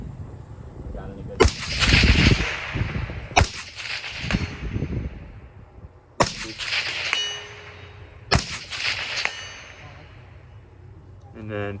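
A gas-powered airsoft gun fires on 14.5 gas pressure, giving four sharp, loud cracks spaced about two seconds apart, each followed by a metallic blowback clatter and ringing decay, with no talking.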